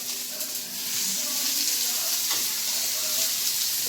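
Tofu frying lightly in oil at home, a steady close bright sizzle that holds evenly throughout, with a faint spoon scrape and voices in the background.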